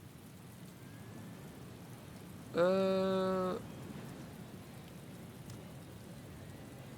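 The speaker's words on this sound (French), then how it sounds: "Ouais, donc il pleut." Steady rain in the racing management game Motorsport Manager, a soft even hiss running throughout, briefly overlaid by a short hesitant spoken sound in the middle.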